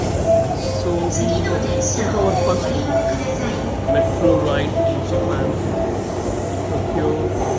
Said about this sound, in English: waiting for our first metro ride